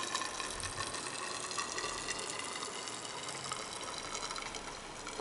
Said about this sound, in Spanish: el tubo de vidrio recibe el mercurio con un chorro muy fino.